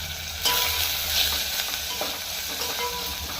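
Tomato and spices fry in a pan for fenugreek rasam, a steady close sizzle with occasional stirring scrapes throughout, no talk.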